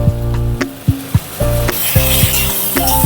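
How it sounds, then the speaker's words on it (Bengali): Ground poppy seed paste sizzles in a frying pan with sugar and onions as a utensil stirs it, with repeated scraping knocks in an uneven rhythm over a steady loud frying hiss. "পোস্তটা দিয়ে ভালো মতন করে এবার নাড়িয়ে নেবো।"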